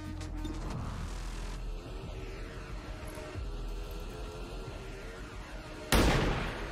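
A sniper shot in XCOM 2: War of the Chosen, one sudden loud crack near the end after a steady stretch of game ambience and mechanical hum.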